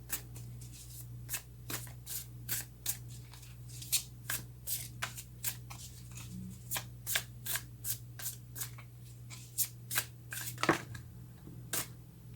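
A deck of tarot cards being shuffled by hand, with a steady series of crisp riffling snaps close up over a low background hum.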